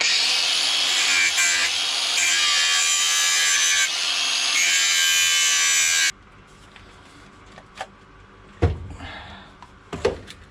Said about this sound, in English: Here, helps if you put a battery into your wee grinder.